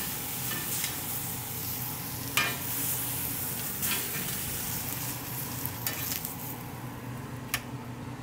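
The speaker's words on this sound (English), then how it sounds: "we are not trying to cook it, we're just trying to sear it" A Denver strip steak sears in a very hot pan with a steady, close sizzle and a few sharp clicks of utensils against the pan, no voices.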